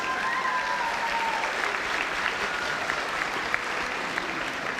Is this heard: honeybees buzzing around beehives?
no